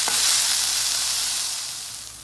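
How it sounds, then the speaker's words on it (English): Sizzling Worcestershire meat sauce in a pan, with a spoon stirring and scraping across the sticky bottom; a steady close hiss that starts with a brief scrape and fades slightly toward the end, with no talking. "You just want to make sure once you add the Worcestershire that you're scraping the bottom a lot while you're stirring"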